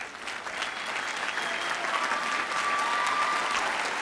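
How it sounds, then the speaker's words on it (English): Commencement audience applauding parents and families, a sustained, dense wash of clapping from a large crowd that holds steady and slightly swells, with a faint whistle cutting through. "we're going to give them a round of applause"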